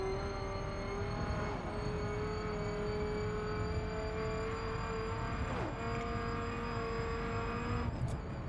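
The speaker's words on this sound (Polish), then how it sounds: "Ale ta turbina tutaj świszczy." A race car in the video game The Crew drives on steadily with its turbo whistling as a sustained high tone over a constant engine drone, briefly shifting pitch mid-run, loud and close with no voices.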